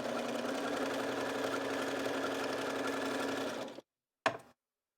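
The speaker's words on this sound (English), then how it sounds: "So I'm moving the tucks over a couple grooves and then stitching once again." A Bernina sewing machine stitches pintucks using a pintuck foot, a steady close whirring hum for several seconds that stops abruptly, followed by one brief mechanical clunk.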